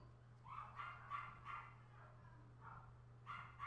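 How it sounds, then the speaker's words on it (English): A neighbor's dog barks in an apartment hallway, sounding muffled and slightly distant through walls, in a few short clustered bursts of barks over a steady low electrical hum. "that's my neighbor's dog barking"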